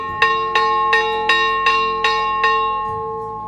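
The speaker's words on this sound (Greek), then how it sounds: "Ο αντίλαλος και η ηχό της καμπάνας ακούεται για 2 λεπτά." A chapel bell in Pedoulas, Cyprus, rings seven times at a steady pace, each clear metallic strike ringing on and overlapping the next before the tone fades out. Loud and fairly close, with no voices.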